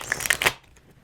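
A quick riffle of tarot cards shuffled close by, a burst of crisp fluttering clicks lasting about half a second before fading into near silence.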